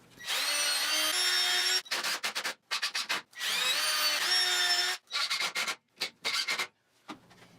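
A power drill whirs in two long runs drilling pilot holes, then in a series of short bursts as screws are driven into wood for a step stool, close and fairly loud.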